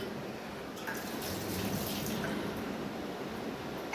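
Lemons are washed under running tap water, a steady close splashing flow that continues throughout with no talk.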